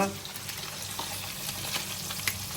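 Squid deep frying in hot oil in a home kitchen, giving a steady, fairly quiet sizzle with soft crackles throughout, while a voice talks faintly over it.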